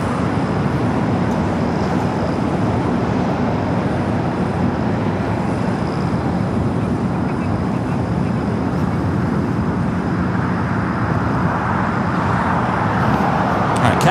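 Cathay Pacific airliner taxiing toward runway 25 at LAX, a steady broadband jet engine rumble and whine holding at constant loudness throughout, with general airport background noise.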